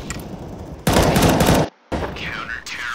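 Gunfire in Counter-Strike: Global Offensive, a loud burst of rapid automatic shots lasting under a second, then a brief cutoff before more game sounds and faint chatter return.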